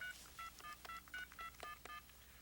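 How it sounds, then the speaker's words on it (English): A telephone number is dialed as a quick series of about a dozen short two-tone DTMF beeps in an uneven rhythm, faint and slightly distant against a steady background hiss, with no voices. "To make a call, you dial the number."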